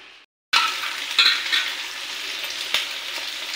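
Soybean chunks fry in hot mustard oil, a bright sizzling hiss bursting in after a brief near-silence and continuing strongly with small stirring clicks and pops, close and loud with no talk.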